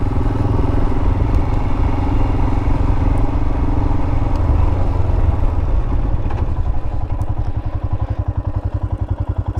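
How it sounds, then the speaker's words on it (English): Helmet wind noise while riding a Royal Enfield motorcycle: a loud, steady rushing roar over the single-cylinder engine's low, rapid thrumming, which grows more pulsed toward the end, with no talking. "You gotta find that balance between helmet wind noise and"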